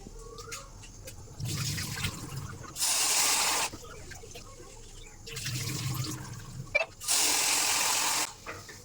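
Rice rinsed in water in a home kitchen, with tap water running in several separate gushing bursts between quieter swishing and handling sounds, all close by.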